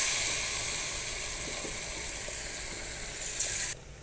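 An egg fries in hot oil with a steady, even hiss that holds at an unchanging level and then cuts off abruptly near the end, close and with no one speaking.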